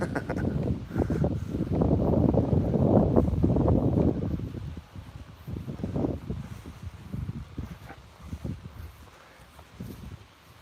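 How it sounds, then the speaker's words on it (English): Wind buffets the microphone during a morning walk near waterfalls, with heavy rumbling gusts at first that ease into rustling and intermittent blustery noise, close and fairly loud. "got the wind."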